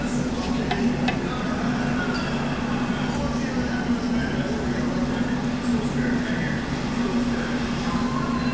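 About four tablespoons of oil heat in a pot for beef stew, making a steady, even sizzling hiss over a low hum that holds at a constant level from start to finish.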